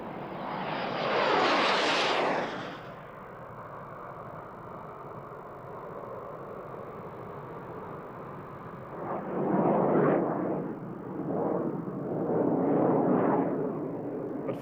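Aerobatic jets of a synchro pair fly the shotgun manoeuvre at the 1997 RAF Fairford air show: a loud roaring pass rises and fades, followed by a long distant rumble and a second surge of jet noise.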